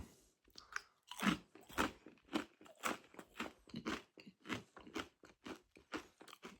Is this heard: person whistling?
no